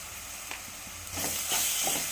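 Ginger garlic paste sizzles in a hot pan for mutton curry, a steady close hiss that swells louder midway with light scraping stir sounds.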